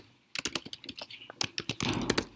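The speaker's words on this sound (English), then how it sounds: "And I'm just going to type in my name right there." Quick, irregular keystrokes clatter on a computer keyboard while a name is typed into code, close and crisp, with a brief pause before a denser burst of typing.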